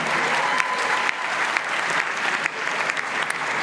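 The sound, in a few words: applause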